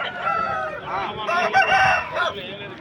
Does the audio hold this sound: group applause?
no